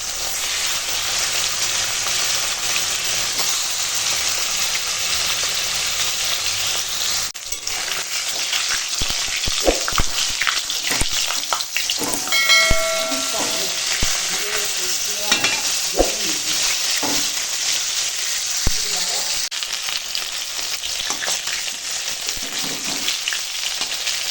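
Bhetki and katla fish frying in hot oil, with a steady close sizzle and occasional stirring clinks throughout.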